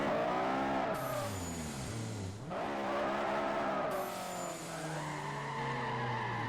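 Race cars in Forza Motorsport 4 weave to warm their tyres on track, with loud engines revving up and down and long tire squeals sweeping in pitch, overlapping and continuous.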